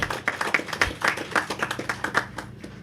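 Hands clapping in a round of applause at a Old Road Rehabilitation Project signing ceremony, a steady run of moderately loud, slightly uneven claps through the whole stretch.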